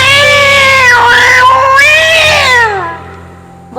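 Two cats fighting at dawn, one drawn-out, wavering yowl rising and falling over a steady low hum, loud and close, fading out near the end.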